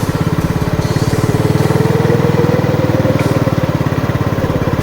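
A motorcycle engine putters steadily and close by while riding along a narrow concrete path near an eco park in Naujan, Oriental Mindoro, its rapid even pulsing continuous throughout.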